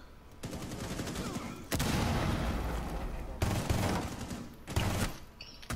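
Bursts of heavy automatic gunfire from a tactical shooter video game in ranked play, dense volleys that start, stop and restart in loud bursts, with a voice briefly speaking over the firing.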